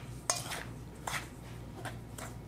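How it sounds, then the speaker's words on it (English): Dry cake ingredients stirred gently in a bowl, a few light utensil scrapes and taps against the dish at a quiet, close range with no voices. "So first thing I'm gonna do is just stir those together gently before we move on with the wets."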